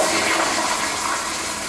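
A toilet flushing close by, a steady rushing wash of water that fades slightly toward the end, with no voices.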